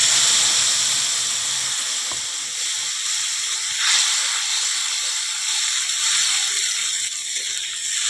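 Ground spice paste frying in hot mustard oil in a wok for a fish curry, a steady close sizzling hiss that runs on without a break.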